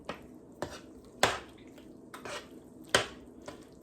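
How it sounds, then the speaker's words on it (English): Macaroni being stirred into a creamy cheese sauce, with a utensil knocking against the dish in several distinct clinks and scrapes at uneven intervals, close and fairly quiet. "You want to make sure you mix everything into your sauce."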